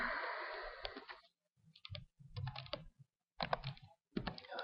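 Bursts of keystrokes on a computer keyboard while Java code is entered, irregular clusters of close, crisp clicks separated by short pauses, with no talking.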